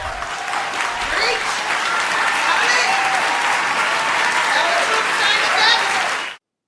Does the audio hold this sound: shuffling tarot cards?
no